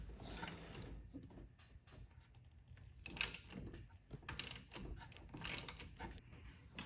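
A ratchet works a 13 mm steering shaft bolt loose on a Mustang, with quiet, close, repeated clicking strokes in uneven bursts and no voices.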